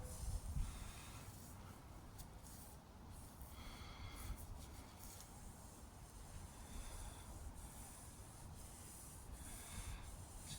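A scourer rubs softened old adhesive tape residue soaked in white spirit off a Jaguar XKR spoiler, giving quiet continuous close scrubbing strokes with a soft hissy texture, no voices.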